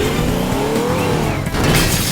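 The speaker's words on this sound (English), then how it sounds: "I made the car fall over somehow." A vehicle in the game Teardown crashes and tips over, giving loud engine roar mixed with scraping, tire squeal and shattering debris that build toward a heavier impact near the end.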